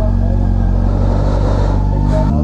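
A Honda CB400 Super Four motorcycle engine idles at about 2000 RPM, a steady, loud, close rumble with an even low throb that holds throughout, dipping slightly near the end.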